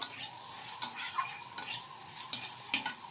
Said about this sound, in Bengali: এবার ভালোভাবে একটু নেড়ে চেড়ে ভেজে নেব।